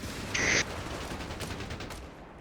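Rapid machine gun fire from a .50 cal in the World War II strategy game Company of Heroes 3, a short dense burst near the start followed by a steady wash of distant battlefield gunfire, with no talk.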